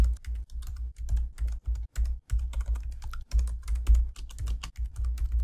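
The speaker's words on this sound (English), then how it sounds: "And over here, we're typing out" Steady typing on a computer keyboard, a rapid, uneven run of close, crisp key clicks with brief pauses between bursts, with no talking.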